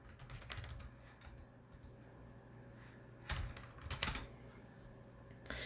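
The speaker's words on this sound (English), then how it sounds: "I'm going to type in silhouette constellation" Keystrokes on a computer keyboard as a search phrase is entered, a steady run of light clicks with a couple of louder bursts near the end, close and alone without talk.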